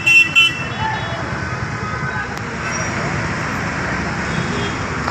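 Road traffic noise behind a Coimbatore to Chennai SETC bus, a steady roar of engines and tyres with a couple of brief toots at the start, then a continuous rumble at moderate level.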